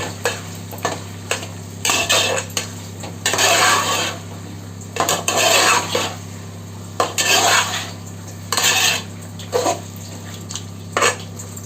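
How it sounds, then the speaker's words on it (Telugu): Ginger and garlic are stirred into chicken in a biryani pot, a spoon scraping and clanking against the metal in repeated bursts over a soft sizzle, close and without talk. "చక్కగా అల్లం వెల్లుల్లి మనకు ముక్కకు పట్టేటట్లుగా తిప్పుకోవాలి"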